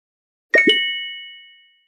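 A cell phone message notification, a short double plop-like tap followed by a clear bright ding that rings and fades out over about a second, alone against silence.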